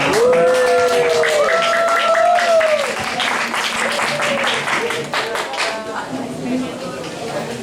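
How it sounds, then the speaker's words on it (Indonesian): An audience applauds at the close of the final session of an afternoon research dissemination event, sustained clapping mixed with raised voices and chatter. "Tepuk tangan yang meriah untuk kita semua."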